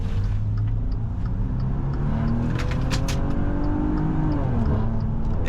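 A Maserati Levante's engine pulls hard as the SUV accelerates onto a highway, a steady loud rumble with rising tones under continuous road and wind noise.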